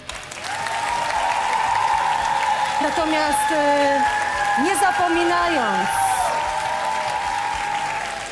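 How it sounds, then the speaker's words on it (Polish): A studio audience on The Voice of Poland, a TV singing talent show, applauds in a long, loud, steady roar, while someone speaks over it and brief whoops rise from the crowd. "należą ci się za to ogromne brawa"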